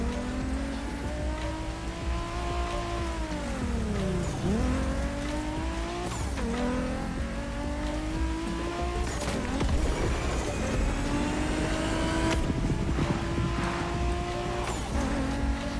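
A race car in the Motorfest video game revs and shifts through rising and falling engine tones, with tire squeal and skids as it drifts, loud and continuous throughout.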